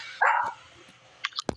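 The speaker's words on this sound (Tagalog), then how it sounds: "Hala, tumatahol." A dog barks once loudly up close, then gives a few quick, fainter yips and a sharp final bark over a quiet background.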